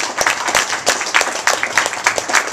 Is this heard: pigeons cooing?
no